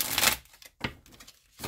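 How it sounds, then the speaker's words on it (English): Two quick bursts of papery riffling as tarot cards are shuffled, close by, with a short pause between them and no talking. "Let me give this another shuffle"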